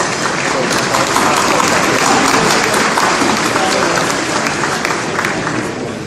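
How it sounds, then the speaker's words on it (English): A dense, loud round of audience applause fills a charity awards tea benefiting food pantries and shelters, steady and sustained throughout before easing slightly at the end. "I want to give all 3 of you a huge round of applause"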